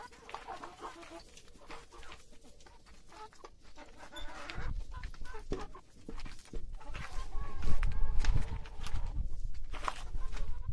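Chickens cluck and squawk close by in an irregular, busy chorus, with some rustling and shuffling growing louder toward the end.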